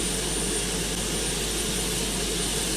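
Jet aircraft engine spooling up during an engine start sequence, a loud steady broadband roar with a high whine, continuous and close throughout.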